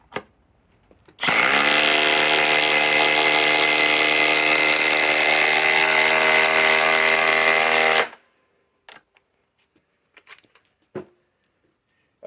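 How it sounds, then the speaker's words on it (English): Harbor Freight Hercules top-of-the-line 8 amp cordless impact driver runs free for about seven seconds, a loud steady high-pitched whine starting and stopping abruptly, followed by faint clicks and handling sounds. "This is their top of the line impact driver, 8 amp, 21/7 cell battery."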